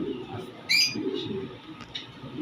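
A few short pigeon calls, coos and chirps, close by over a soft, low ambient murmur.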